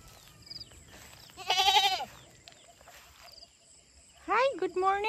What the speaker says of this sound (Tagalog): Napaligiran ng kambing.